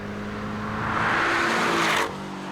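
The four-cylinder engine of a 2017 Porsche 718 Boxster sports car roars past, its tone swelling to a loud peak and then cutting away abruptly as it recedes.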